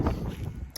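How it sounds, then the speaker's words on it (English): Wind buffets the microphone in a brief, rumbling low roar with a rough, fluttering texture. "I'm really sorry about the wind."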